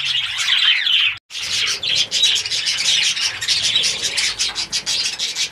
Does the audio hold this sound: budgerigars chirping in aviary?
yes